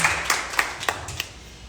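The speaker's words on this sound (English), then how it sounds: "can we just give this panel a round of applause" Scattered clapping from a small audience at a mayoral candidate forum in Jersey City, a handful of sharp claps spaced apart, fairly near and modest in volume, with no talk over it.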